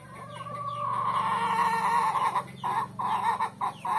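A black game fowl rooster of a fighting breed clucks and calls in a farm setting, a loud nearby run of throaty clucks that turns choppy and broken toward the end.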